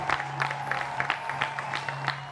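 A French-language TV talk show's studio audience gives sparse, fairly faint applause, distinct claps in an uneven rhythm over a steady low hum, with no voices.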